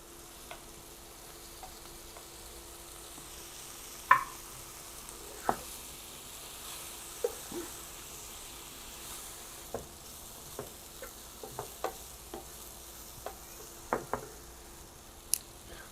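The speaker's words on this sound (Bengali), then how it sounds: "এখানে আমি একটা বেগুন দিয়ে দিচ্ছি।" A 200-gram brinjal fries in a pan over low heat, giving a soft steady sizzle with scattered sharp pops and crackles standing out clearly, and no one talks over it.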